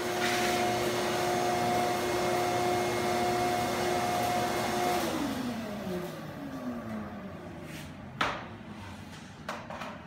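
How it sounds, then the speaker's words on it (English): Shop vacuum fitted with a Dust Deputy cyclone, running with a steady loud whine, then powering down with a falling hum while a few knocks sound nearby. "I'll vacuum up the mess that I've made"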